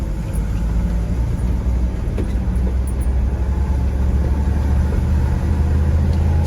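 A 1951 GMC truck engine running while driving, a loud steady low rumble with slightly uneven, sputtering texture, heard from inside the cab without speech.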